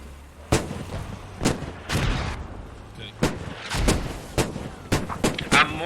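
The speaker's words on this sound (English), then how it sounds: "mortars on both sides, by the way, using all the resources they have" Mortar and gunfire boom through a military video game during a tournament grand-final match: a dozen sharp blasts land at uneven intervals, some near and loud, others duller, with faint voices underneath.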